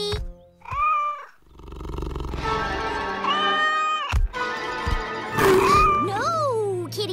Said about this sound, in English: Oh, Polly, look! A kitten!